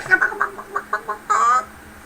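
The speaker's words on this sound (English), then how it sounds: "the girls are all in their chicken coop, cackling away" Hens cackling inside a chicken coop, a run of short clucking bursts with a louder sustained squawk near the end, fairly close and clear with no talk.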